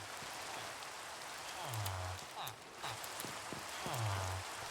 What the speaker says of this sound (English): Oh, rain. Rain is so bad.